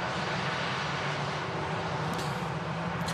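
An EasyJet Airbus A320 landing at Manchester Airport makes a continuous engine roar with a low steady hum beneath it, fairly faint and even throughout, with no talk.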